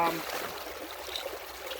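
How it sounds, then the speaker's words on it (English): Creek water rushes hard and steady through a river sluice, a continuous broadband wash with no breaks. "because the water's going pretty hard"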